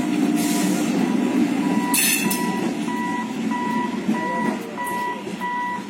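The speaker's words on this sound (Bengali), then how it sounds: "ট্রেন যাক তারপরে আবার এগোবো।" A train passes a road level crossing, its rolling rumble and wheel noise continuous and close, while a warning signal beeps in steady, evenly spaced pulses above it.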